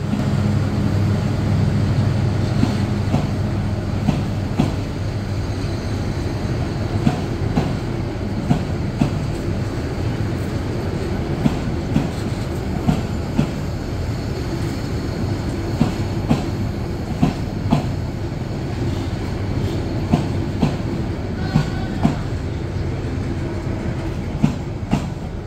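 The Paharika Express, hauled by a 2900 series locomotive, travels a winding hilly line from Chittagong to Sylhet. A steady carriage rumble carries regular clacking wheel beats, heard close and continuous with no speech.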